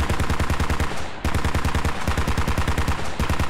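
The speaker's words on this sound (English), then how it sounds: "Oh, the mortars!" Mortar fire and explosions in the military video game Squad: a loud, continuous barrage of sharp blasts and crackling impacts close by, with one brief lull before it resumes.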